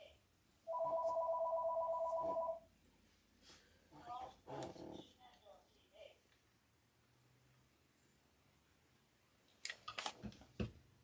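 A phone rings loudly for about two seconds with a steady electronic tone, announcing an incoming Medicare call, followed by rustling, a few bumps and scattered clatter in a quiet room, with brief sharp knocks near the end.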